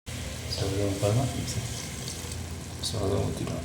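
Water is poured into masala frying in a pan for a potato and beef biryani, giving a watery splash with a low sizzle that comes in two bursts under steady kitchen noise.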